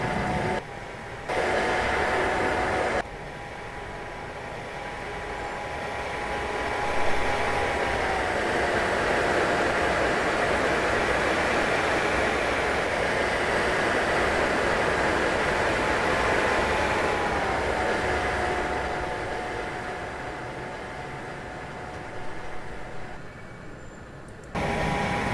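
An ICE 2 high-speed train in Train Simulator 2017 runs from Karlsruhe to Mannheim Hbf at about 200 km/h with a steady roaring rumble and a faint whine that swells and eases over half a minute.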